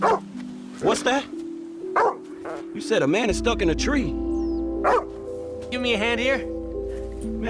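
A dog in a video game barks several times, sharp and close, interleaved with characters talking over a low in-game background hum.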